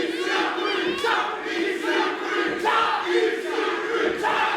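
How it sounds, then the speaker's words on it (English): A wrestling crowd at a Juggalo Championship Wrestling event cheers and yells loudly and continuously, with raised shouts surging through the arena. "The crowd starting to come alive for EC3"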